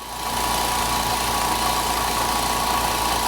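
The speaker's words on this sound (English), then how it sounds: "It's just absolutely wonderful little air compressor." A small, quiet air compressor hums and buzzes at a steady level, motor running continuously as it builds pressure, close and alone with no speech.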